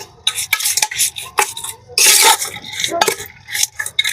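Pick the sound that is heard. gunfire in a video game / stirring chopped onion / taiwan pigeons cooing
stirring chopped onion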